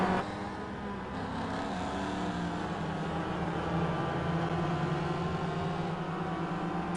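Mazda MX-5 race cars in a racing video game at Barber, several engines droning and revving together at steady loudness through the stretch, a dense continuous hum with no voices.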